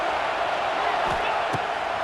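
A stadium crowd roars in the EA Sports College Football 26 video game, a dense, loud, sustained wash of cheering with a couple of brief thuds.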